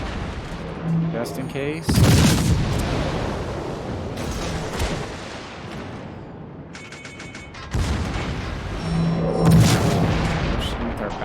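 Warship guns firing in the naval game World of Warships, with two heavy booming salvos roughly six seconds apart over a rumbling battle backdrop, while someone talks throughout.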